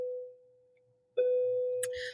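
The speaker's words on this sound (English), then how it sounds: "there's the bell." A bell rings with a steady, pitched electronic tone that fades, then sounds again sustained, with a faint voice briefly near the end.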